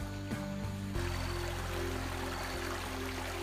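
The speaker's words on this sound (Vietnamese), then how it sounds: "Đây đang xuống dòng suối suối nhá, nước chảy rất rách." Fast-flowing stream water rushes in a continuous loud wash at a rural eco-tourism village, with some low tonal hum mixed in throughout.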